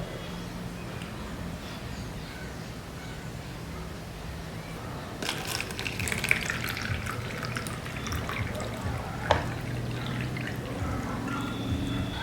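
Fevicol glue is poured into water, giving soft trickling and splashing sounds with a few small drips over low background noise.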